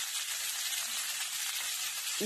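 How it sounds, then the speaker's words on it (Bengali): Green beans frying in a pan with turmeric and salt for Bengali khichuri, a steady, close sizzling hiss that continues evenly, with a faint clink near the end. "আমি বিনসগুলো দিয়ে দিচ্ছি দিয়ে এগুলোকে ভালো করে আমি ফ্রাই করে নিচ্ছি"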